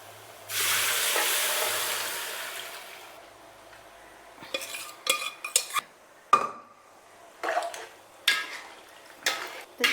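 Beef poured into masala in a pan for a Kerala beef curry sets off a loud hissing sizzle that fades, followed by a series of sharp clanks and scrapes as a spoon stirs against the pan.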